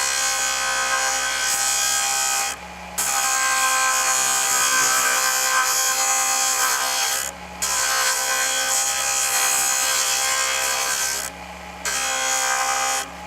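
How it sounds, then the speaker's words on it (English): JOOLTOOL polishing wheel spinning at high speed against silver jewelry, a loud, steady high-pitched whir broken by three brief pauses, with no talking. "So I'll run this at high speed, and I'll hold it directly underneath the wheel"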